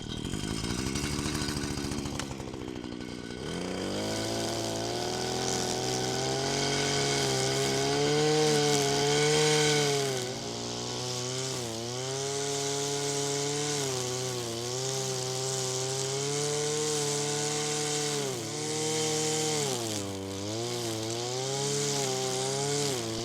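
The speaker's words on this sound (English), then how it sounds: "Right, let's get on with the strimming." A string trimmer cuts allotment grass with its motor droning loud and close the whole time. The pitch rises and dips over and over as it bites into the grass, and no voice is heard.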